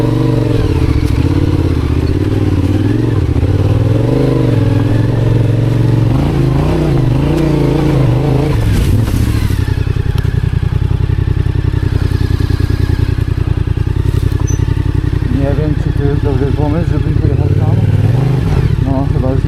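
KTM-style Yamaha T7 adventure motorcycle on an autumn ride, its engine running steadily and loud throughout with a few revs, while someone talks over the idling and riding engine.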